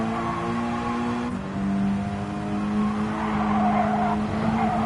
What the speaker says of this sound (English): Listen for the lift and watch my throttle.